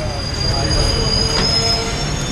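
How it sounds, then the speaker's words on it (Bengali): An Intercity Express train rolls into Khaltipur station, its wheels squealing in a sustained high metallic whine over a steady low rumble, loud and close throughout. "আমাদের ট্রেন এখন খালতিপুর স্টেশনে ঢুকলো"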